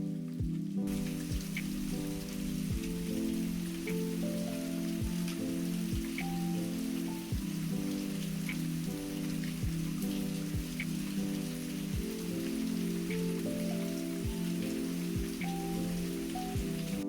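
Steady rain falling on a surface in Spain, a constant patter with occasional heavier drips, continuing evenly throughout while a soft musical tone hums underneath.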